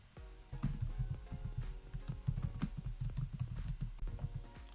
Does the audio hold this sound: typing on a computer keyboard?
yes